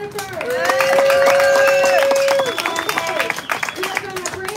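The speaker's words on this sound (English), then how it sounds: "So can you have one more round of applause for Jennifer?" Audience applause at a speaking event, with clapping mixed with cheering, whooping voices and crowd chatter, loud at first and then breaking into scattered claps.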